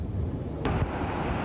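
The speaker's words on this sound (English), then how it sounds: "Big rolling waves inch closer to the beach in Revere, showing the might of a winter nor'easter off the North Shore." Ocean waves roll in at Revere Beach on the North Shore during a winter nor'easter, a dense continuous roar of surf mixed with strong wind buffeting the microphone, with a brief sharp knock partway through.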